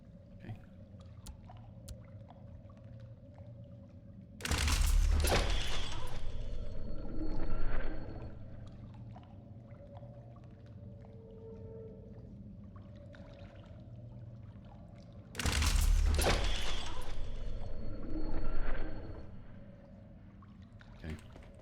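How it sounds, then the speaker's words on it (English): Water surges past a submarine in a video game, two loud rushing gushes several seconds apart, each swelling and then fading over a quiet, low ambient hum, with no talking. "I hear water directly on the other side"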